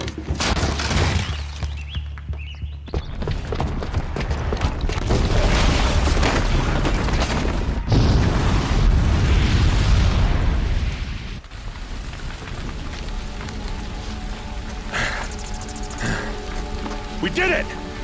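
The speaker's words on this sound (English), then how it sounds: "the booby trap on the bomb downstairs is gonna get set off" A booby-trapped bomb goes off in the video game Horizon Zero Dawn, a loud rumbling blast with debris and crumbling rubble that rolls on for several seconds before settling into quieter game ambience and music, with voices heard at times.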